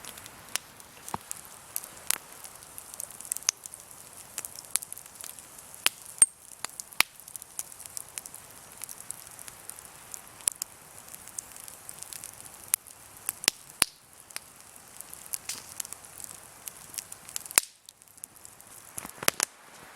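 A campfire outdoors burning down to its last embers, giving off faint, scattered pops and crackles at irregular intervals over a quiet background, with no talking.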